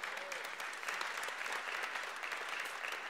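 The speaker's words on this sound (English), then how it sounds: "you can clap for that" A congregation at a church sermon service bursts into applause, a dense, sustained crowd clapping that stays loud and even for the whole stretch, with no speech over it.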